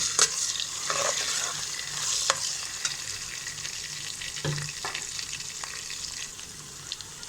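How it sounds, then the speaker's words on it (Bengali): Steady sizzling of ginger paste frying with onions in a pan, with occasional scraping strokes of a spoon stirring through it. "আদাটাকেও আমি পেঁয়াজের সাথে ভালোভাবে ভেজে নেব।"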